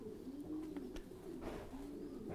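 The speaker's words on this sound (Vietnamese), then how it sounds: "Đây là con chim bồ câu mái này." American giant pigeons, a heavy two-kilogram breed, coo softly and repeatedly at close range, low rolling calls in a quiet pen with no talking.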